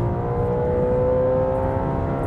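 An Audi RS4's 4.2-litre naturally aspirated V8 revs loud and close in dynamic mode on a race track, a sustained harmonic roar with no talking over it.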